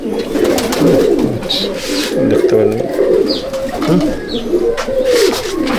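Andhra Kalanka pigeons coo steadily in a crowded loft, the low throaty calls overlapping continuously throughout, with someone speaking briefly nearby.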